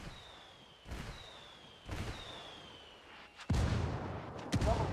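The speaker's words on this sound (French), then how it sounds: "Je demande un tir d'artillerie." Artillery barrage in the tactical shooter Ghost Recon Wildlands: several sharp distant booms land about a second apart, then heavier, louder impacts close together at the end over a faint high whine.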